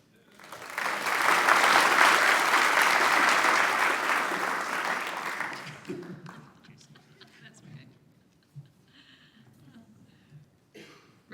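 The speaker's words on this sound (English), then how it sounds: "let's give Wanda a big round of applause" An audience at a credit union annual meeting breaks into loud, dense applause that swells quickly, holds steady for several seconds, then fades out into scattered room noise and a few faint voices.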